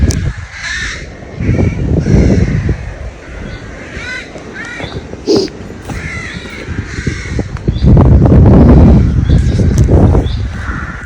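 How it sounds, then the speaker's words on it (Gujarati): A crowd of crows caws repeatedly near the Seven Sisters chalk cliffs on the English coast, harsh calls overlapping from several birds at varying distances over wind rumble. "લાગે છે આખા ગામના કાગડા અહીં જઈ ગયા છે"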